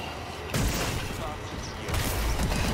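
Gunfire in an Exo Zombies video game mode: two heavy bursts of shooting, one at about half a second and another near the end, loud and booming, over continuous game noise while players talk.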